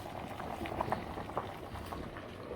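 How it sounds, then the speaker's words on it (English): Beans boiling in a pot give a steady, close bubbling with small pops and gurgles throughout, and no voices. "Boiling now. The beans is boiling."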